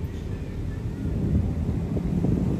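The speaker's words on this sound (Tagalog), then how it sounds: "Kanina pa napakalakas ng hangin pagdating natin." Steady, low rumbling strong wind buffets the microphone on a beach at Manila Bay, a constant roar with no voices.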